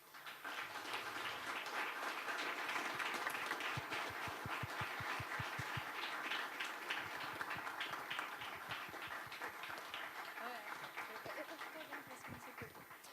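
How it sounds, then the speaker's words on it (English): Audience applause for the speakers at the close of a backend masterclass session, a steady wash of clapping that fills the whole stretch with voices chattering underneath. "let's wrap up the session, and also a big applause to the speakers"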